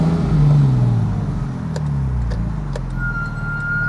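Porsche 718 Spyder RS engine accelerating at lower speed, a low, rising drone that swells and settles, heard close and steady with no talk.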